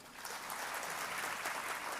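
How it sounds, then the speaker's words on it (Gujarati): Sustained applause from an audience at a motivational speech, a dense even wash of clapping that holds steady from start to finish with no voices over it. "જબરજસ્ત તાળીઓ સાથે."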